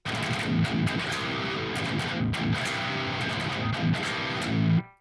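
A short distorted electric guitar riff, choppy chords and notes played with gain, ending in a sustained chord that cuts off abruptly.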